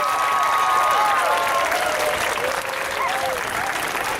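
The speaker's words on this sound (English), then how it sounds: "why don't we give them a big round of applause for their help and their support" Crowd applause for teachers at a Hunger Warriors rally at the Texas state capitol, steady clapping throughout with a few whistles and cheers rising over it.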